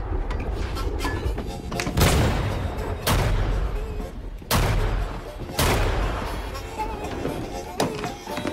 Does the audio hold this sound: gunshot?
yes